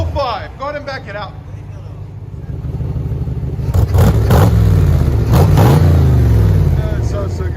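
A 1966 Chevy Corvette V8 with dual exhaust side pipes idles with a deep rumble, then revs in several loud, close bursts, while people talk over the engine.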